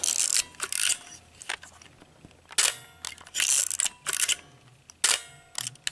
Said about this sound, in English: I'll just show you real quick that the shutter is working